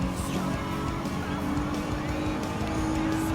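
Race car engines rev and drone at a constant pitch through a hairpin on a racing track in Gran Turismo 7, chasing a Subaru BRZ STI Sport. Bursts of tire squeal rise over the steady engine noise.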